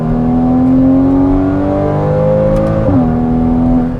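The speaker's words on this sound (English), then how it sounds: "Yeah, definitely a quicker upshift when you have it in sport mode." A Porsche 981 Cayman with factory sport exhaust and PDK gearbox in sport mode revs loudly and close, its engine note climbing before a quick upshift drops the pitch, then it pulls again.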